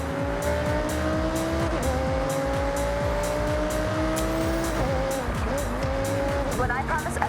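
Audi R8 V10 supercar driving in Forza Horizon, a loud steady engine drone with pitch climbing through gears and dropping at shifts, tire noise underneath and a voice talking over it.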